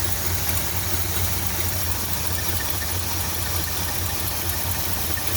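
A 1978 Ford F-150 engine idles steadily with a low, even rumble and faint knocking vibration, constant throughout with no voices; the truck has a possible vacuum leak.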